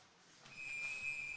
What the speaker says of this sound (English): And the whistle gets blown.